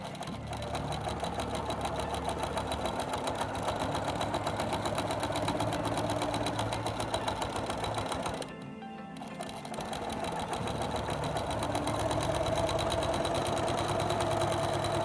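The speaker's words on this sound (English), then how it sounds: "let's stitch around these curves" A sewing machine stitches around curves, its needle running in a fast, steady mechanical chatter up close, with a short slowdown midway before it picks up again at full speed.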